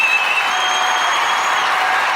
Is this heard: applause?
yes